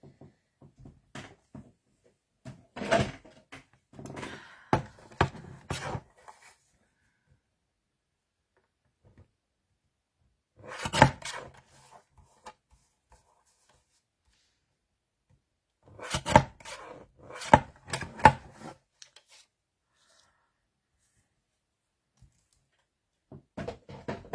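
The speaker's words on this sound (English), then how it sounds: "I'm going to just trim this down a little bit, lose a bit of the top and the bottom." Paper being trimmed for vintage-themed journaling gives scattered soft cuts and rustles in a few short clusters, separated by near silence. The sounds are faint and close, with no talking.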